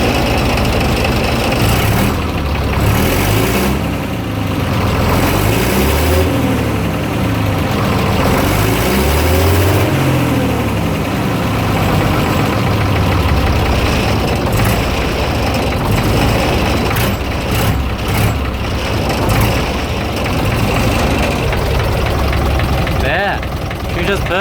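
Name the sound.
AEC Militant 6x6 artillery gun tractor engine idling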